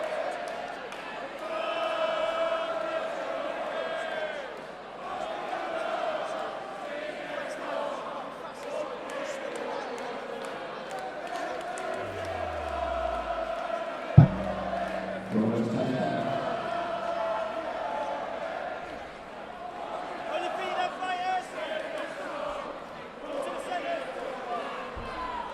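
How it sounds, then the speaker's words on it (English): Boxing crowd at an amateur bout between rounds, a steady roar of cheering and chanting filling the venue, with a sharp thud partway through and commentary talk running over it. "Much jubilation and chanting from the crowd as we commence with the third and final round."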